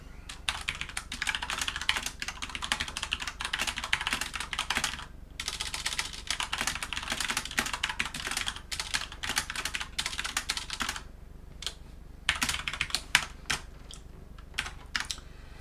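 Rapid typing on a computer keyboard while writing C++ code, close and continuous clicking in bursts with short pauses between runs of keystrokes.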